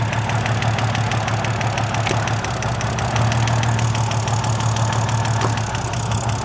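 A BMW drift training car's engine idles with a misfiring fourth cylinder, giving a steady, close, slightly uneven rumble with a rough knocking pulse throughout and no talking.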